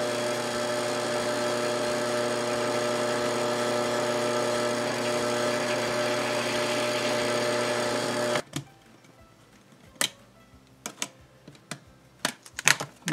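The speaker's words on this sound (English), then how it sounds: "so I'm going to drill a couple of holes right here." A drill press's steady, close motor whine with a harmonic hum runs for several seconds while drilling holes, then cuts off, followed by scattered sharp taps and clicks.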